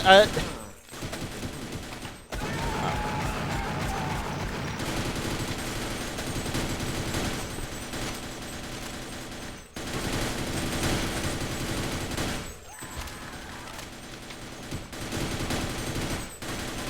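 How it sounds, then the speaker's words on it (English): SMG gunfire in the video game Half-Life: Blue Shift, with long stretches of rapid automatic shots in dense bursts, broken by short gaps, mixed with game effects and voices. "This SMG feels awfully piddly."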